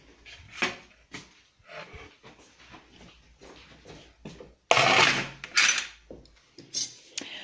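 Small spoons set down on a table, a few light clinks and knocks among quiet handling sounds, with a louder cluster of clatter near the end, no voices.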